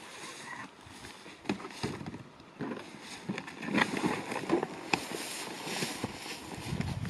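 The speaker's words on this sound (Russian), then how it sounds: "Сейчас я попробую лодку на воде" An inflatable kayak on shallow river water gives soft splashes and knocks from paddling, faint and irregular over light wind noise outdoors.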